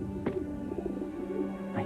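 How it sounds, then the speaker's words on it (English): Carrier pigeons cooing close by, two short soft calls spaced over a couple of seconds above a low steady background hum, no voices heard. "Carrier pigeons."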